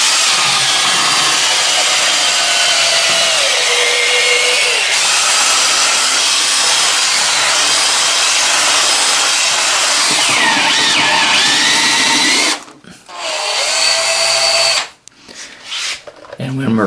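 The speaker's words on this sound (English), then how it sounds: "an electric drill with the brush attached" A corded electric drill with a brush attachment spins loudly and continuously in a toilet bowl, its whine shifting in pitch as the brush is lifted toward the rim, then cutting out and briefly starting again near the end.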